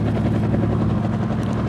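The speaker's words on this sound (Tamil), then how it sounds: "இந்த ஹெலிகாப்டர் ஓட்டுறது ரொம்ப கஷ்டமாக இருக்குது" Helicopter flying in the video game Indian Master Thief, a steady low rotor thrum with a dense chopping drone, loud and unbroken throughout, no speech over it.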